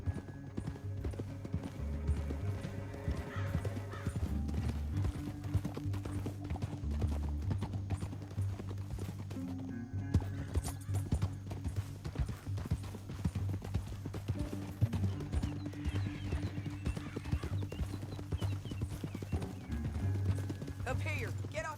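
Horses clip-clop steadily across open ground in Red Dead Redemption 2, a continuous run of hoofbeats that stays moderately loud throughout, while characters talk over them.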